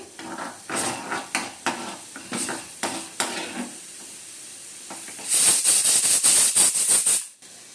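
Cashews fry in ghee for mutton biryani, heard as a series of rhythmic spoon scrapes and clacks against the pan, followed by a louder burst of hissing sizzle that cuts off abruptly at the end.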